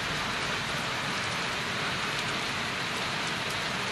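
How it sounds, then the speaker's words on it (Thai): Heavy rain pours steadily at night over flooded rice paddies in rural Thailand, a dense, continuous hiss of drops on surfaces with no voices, close and loud throughout. "ฝนตกหนักถ้าตกอย่างนี้ตลอดคืนนี้มีหวังน้ำท่วม"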